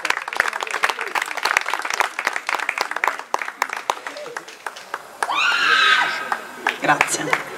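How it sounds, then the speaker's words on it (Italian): Spectators clapping at the final of a table football tournament in Cesa, a dense patter of hands with sharp individual claps standing out, joined partway through by cheering voices and a loud shout. "Facciamo un applauso"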